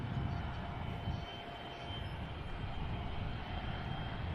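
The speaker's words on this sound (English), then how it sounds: "looks like a Hornet taxiing down from the left as well" A Hornet fighter jet taxis at an air show, its engine giving off a steady, broad roar that holds at an even level throughout without breaks.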